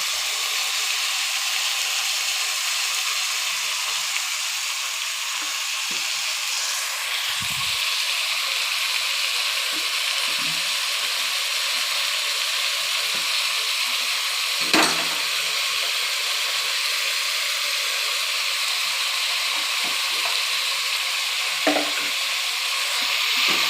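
Overnight-soaked cowpeas frying in oil while being stirred, a steady bright sizzle and hiss throughout, with a few soft scrapes and taps of the spoon, close and even, no talking.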